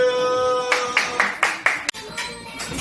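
Several slow, separate claps in a Korean exercise class, a small group clapping about six times after a steady tone fades, with a sharp knock near the end.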